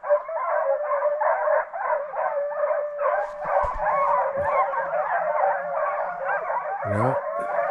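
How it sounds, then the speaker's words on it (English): Young hunting hounds bay on a cold bobcat trail through thick brush, a dense overlapping chorus of howling and bawling voices carrying steadily at middle distance, with brief thumps near the end. "Young dogs."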